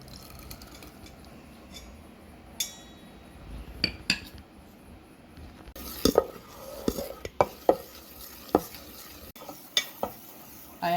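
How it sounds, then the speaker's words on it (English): Yeast stirred into idli batter in a container, a series of close clinks and scrapes of a spoon against the vessel with wet sloshing, irregular and growing busier toward the end. "We can add this into this batter and then keep stirring it."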